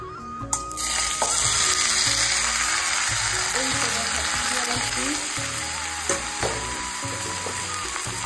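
Moong dal hitting hot oil tempered with panch phoron gives a steady, close sizzle that runs through most of the stretch, with a few clinks of a utensil and faint kitchen noise under it.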